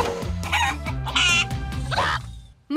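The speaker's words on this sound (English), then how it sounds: "My chickens!" Several cartoon chickens in the children's animated series Rubble and Crew cluck and squawk loudly and close by, with a rooster-like crow rising through the calls before a brief pause and a sudden burst at the end.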